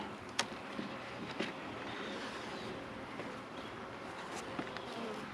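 Honey bees hum in a steady, close drone while a hive is opened for inspection and a frame is lifted out, with a few brief sharper ticks and knocks over the constant buzz.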